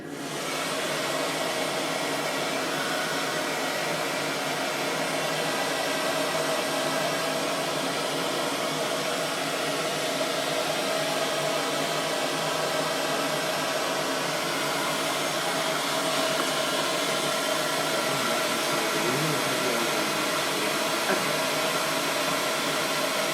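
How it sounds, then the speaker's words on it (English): A hair dryer blows continuously to dry liquid latex on a prosthetic piece, a steady close whooshing hum holding level throughout with no voices. "the reason the hairdryer is being used because it helps to speed up the drying time for liquid latex"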